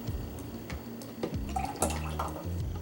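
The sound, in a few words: pouring tamarind sauce into a blender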